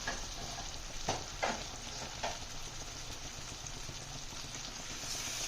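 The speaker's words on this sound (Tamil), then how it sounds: "இப்போ நம்ம கழுவி சுத்தம் பண்ணி வச்சுருந்த காடை வந்து இதில் சேர்த்தாச்சு" Cleaned quail pieces fry in a pan for a thokku, giving a steady close sizzle with a few sharp stirring clatters and spatters along the way, and no talking.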